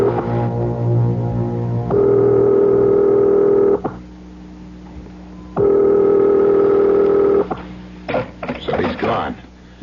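Telephone being dialed in a radio drama: a steady dial tone sounds in long sustained stretches, broken by pauses, followed by short clicky dialing bursts.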